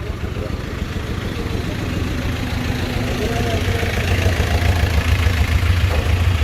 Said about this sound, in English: And that tractor wants to go in.